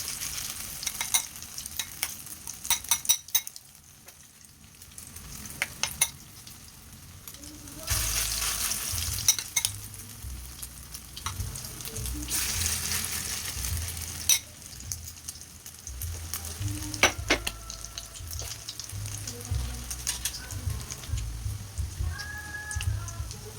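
Fish patties made from leftover fish sizzle and crackle steadily in a frying pan, with bursts of louder spitting oil and occasional utensil clinks, recorded close.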